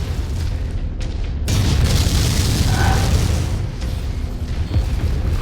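A destroyed enemy explodes in the MechWarrior 5 video game, a heavy deep boom that swells and rumbles on for several seconds, loud and close, with faint game sounds layered over it.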